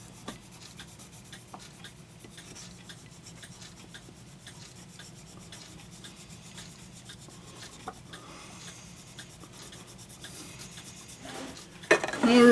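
A polishing stick rubs against a Regula 25 repair part in steady, close, scratchy strokes, faint and continuous, ending in a short louder clatter.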